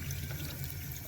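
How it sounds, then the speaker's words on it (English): Tap water runs in a bathroom sink while hands are washed, a soft, continuous splashing stream, faint and steady with no talking. "Washing my hands because they had vomit on them."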